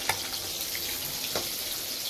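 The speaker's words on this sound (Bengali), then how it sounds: "এদিকে মাছগুলো ভাজা হচ্ছে" Fish frying in a pan make a constant close hiss, punctuated by a couple of sharp pops, with no talking over it.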